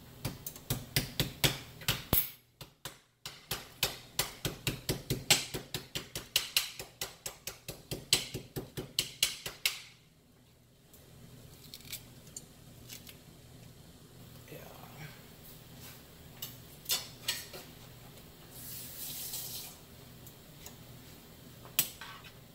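Fresh thyme and green onion pounded in a mortar, a fast run of sharp, loud rhythmic thuds for about ten seconds, then a pause before quieter scattered knocks and handling noises follow.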